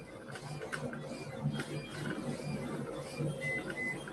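A pen plotter printer runs with a steady mechanical whirr and faint rhythmic ticking, a constant mid-level hum throughout with short higher squeaks near the end.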